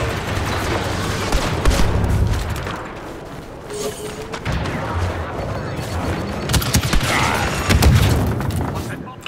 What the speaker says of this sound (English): Fucking grenades, man.